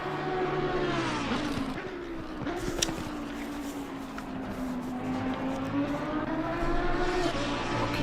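Race cars lap the Kyalami circuit in the PC racing game Pan Am Racing, several engines droning and shifting pitch steadily for the whole stretch, one car passing a little closer, with no talk.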